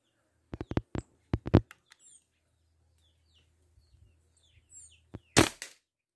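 An air rifle fires a heavy 19-grain Predator pellet in a quiet setting, a short sharp crack near at hand, with a few other brief clicks and knocks around it.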